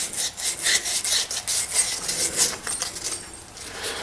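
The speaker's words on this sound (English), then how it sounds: "you want to rough up your tube with a little bit of sandpaper before you do that" Brisk, aggressive sanding of a pen tube with sandpaper ahead of gluing it into a scalloped blank, a continuous close hissing scrape in quick repeated strokes, alone without speech.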